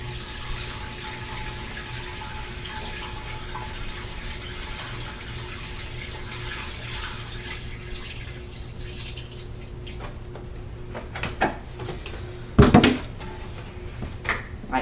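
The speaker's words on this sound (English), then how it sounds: "you can take the water and pour it on a rock or whatever, and the water will just pour off of it" Water is poured onto a rock in a betta fish tank, a steady close trickle and splash, with a few louder drips and knocks near the end.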